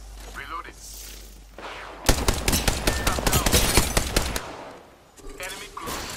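Gunfire in the video game Frag Master: a dense burst of rapid automatic shots fills the middle of the clip, loud and close, with quieter game sounds and brief voices before and after.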